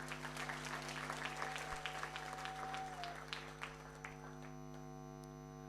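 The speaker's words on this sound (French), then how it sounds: "Applaudissez pour eux, s'il vous plaît." An audience applauds at a corporate gathering, dense clapping that thins out and fades over a few seconds while a steady electrical hum continues underneath.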